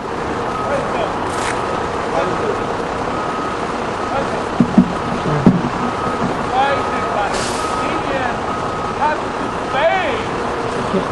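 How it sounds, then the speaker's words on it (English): A bus rumbles past on a busy street, a steady low roar with brief air-brake hiss and traffic noise, running under a voice. "I'm sorry, sir, the bus behind me, I can't hear you very well."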